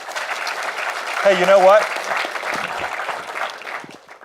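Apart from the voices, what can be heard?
audience clapping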